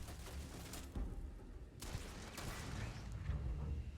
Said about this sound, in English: Turret shooting at me.